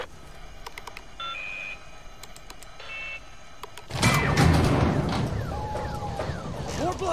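Alarm triggered during a heist in the video game Redfall, a steady electronic tone sounding in short pulses and then swelling into a louder continuous wail with other game noise layered over it.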